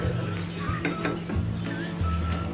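Washed rice stirred into boiling water in a pressure cooker pot, with a spoon scraping and clinking against the metal over a steady low burner hum, several short strokes.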